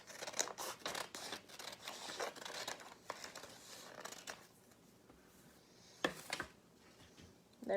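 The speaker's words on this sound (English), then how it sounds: "now I'm going to cut off this top part" Scissors snip through origami paper, trimming off the top edge to make a square: a run of crisp, close cuts and crinkles, then a brief pause before a few final snips, with no talking.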